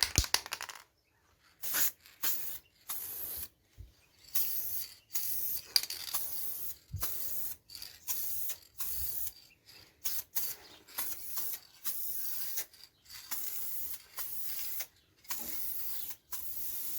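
Spray can hissing in repeated short bursts while laying the final coat of paint on parts of a custom Haro BMX bike, each spray separated by brief pauses, close and fairly loud with no talking.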